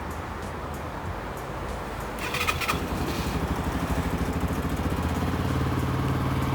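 A Benelli RKF 125cc single-cylinder motorcycle cranks and fires up about two seconds in, then settles into a steady, close, putt-putting single-cylinder beat that holds to the end.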